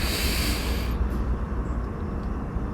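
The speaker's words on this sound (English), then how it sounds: "Take a deep breath in" A deep breath drawn in during a mobility and breathing exercise, a close, airy rushing inhale that fades after about a second into quieter background hiss.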